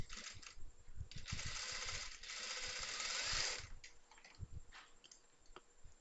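A sewing machine stitches a chudidar seam in bursts of rapid, close mechanical ticking, a long continuous run in the middle with short starts and stops around it and almost no talk.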